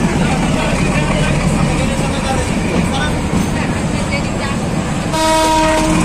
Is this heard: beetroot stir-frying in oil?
no